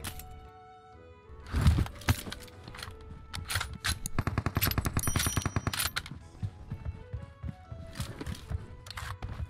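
Rapid gunfire bursts from a shotgun in the PUBG battle game, sharp cracks clustered into a fast volley in the middle with scattered single shots before and after, loud and close.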